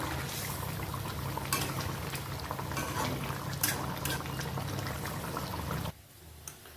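Fish dopiaza with tomatoes simmering in a pan, a steady bubbling sizzle with crackling pops, close and even, quieting abruptly near the end.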